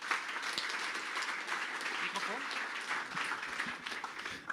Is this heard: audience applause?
yes